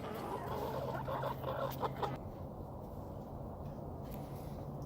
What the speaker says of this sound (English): Happy little birds.